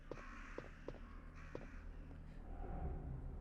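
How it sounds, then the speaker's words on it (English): Crows cawing in the Resident Evil video game, a few sharp calls spaced apart over a low, menacing droning synth score. "You hear the crows in the background."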